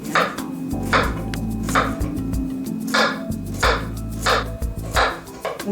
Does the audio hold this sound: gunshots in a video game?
no